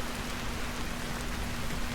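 Rain falls in a forested video game landscape, a dense, steady hiss of drops at even loudness with a faint constant hum underneath and no talking.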